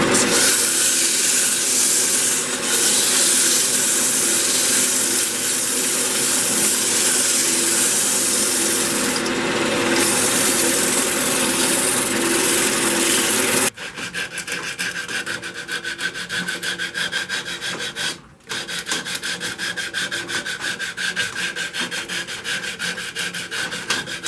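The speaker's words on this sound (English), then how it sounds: "this is a big hole, so I'm going to be sanding just like this with my fingers" Steady, continuous friction of hand sanding by finger inside a large opening of a spalted walnut vase spinning on a lathe, a close, loud rubbing hiss that runs with a brief break partway through.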